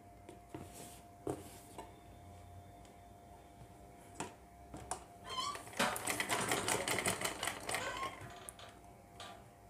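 A sewing machine runs a seam on a katori-style blouse with a half-inch margin, a dense rapid stitching burst in the second half after scattered clicks and fabric handling, fairly faint with steady room hum underneath.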